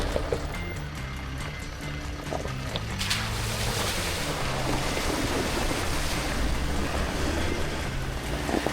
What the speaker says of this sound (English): So that was another easy creek crossing